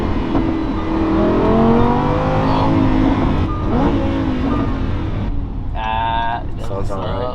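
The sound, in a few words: Lamborghini Huracan engine revving on downshift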